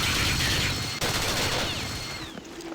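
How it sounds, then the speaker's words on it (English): A minigun fires a sustained burst in the Fallout Tactics video game, a loud dense roar of rapid gunfire that continues with little break throughout before tapering slightly at the end. "Alright, burst fire."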